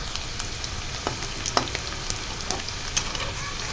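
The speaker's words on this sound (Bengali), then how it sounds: "এটা ভাপানো আলুটাকে একটু লাল লাল করে ভেজে নিব" Steamed potatoes fry in hot oil with a dense, even sizzle close by, dotted with light clicks and scrapes from stirring, and no voices.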